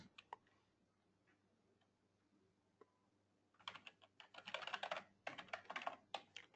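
Fast, light clicking of a computer keyboard as code is typed. A few scattered taps come first, then dense bursts of keystrokes close-up and quiet, with no talk.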